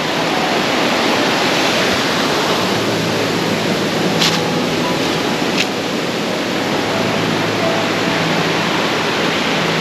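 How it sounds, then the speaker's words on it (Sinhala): Asupini Ella waterfall roaring loud and close, a dense unbroken wash of falling water with no voices. "මේ ඇල්ලේ සද්දේ අධිකයි."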